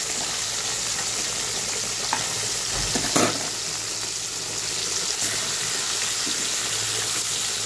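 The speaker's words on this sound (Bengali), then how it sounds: "কিন্তু যা তেল ছিটাচ্ছে আমার তো ভীষণ ভয় লাগছে, খুব তেল ছিটাচ্ছে" Fish fried in oil, still wet from the fridge, make a loud constant sizzle with sharp spattering pops and a few stirring knocks at close range, with no talking.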